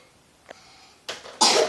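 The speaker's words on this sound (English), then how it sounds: "Coughed." A person coughs in two quick, sharp bursts, the second louder than the first, after a faint short sound, with no talking around it.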